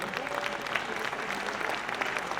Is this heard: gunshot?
no